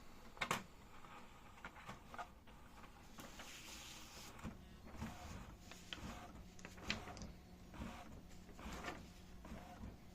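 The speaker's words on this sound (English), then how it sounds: "Confirm with yes and wait for the" Canon MAXIFY MB5450 inkjet printer printing a nozzle check pattern, faint mechanical whirring and clicks of the paper feed and print head moving, with a few sharper knocks, quiet and alone.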